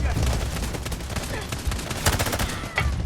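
Dense bursts of automatic gunfire and single shots crackle almost nonstop in a Delta Force Mobile firefight, loud and close with a few sharper peaks standing out.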